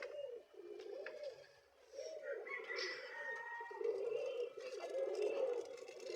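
Pigeons coo softly and steadily while racing pigeons arrive home, a low continuous cooing throughout with faint bird calls layered above, quiet and close.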